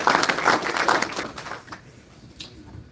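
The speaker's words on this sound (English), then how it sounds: "So if we could just give Retired First Sergeant Taylor a round of applause." An audience at a Richmond military retiree club gathering applauds a retired first sergeant: a dense burst of clapping for about a second and a half, then fading quickly to a quiet room.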